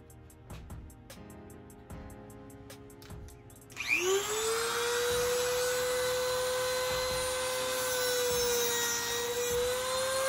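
A few light taps and knocks, then a power sander spins up into a loud, steady, high whine that runs continuously, sanding a fiberglass hood scoop on a 1965 Dodge Dart.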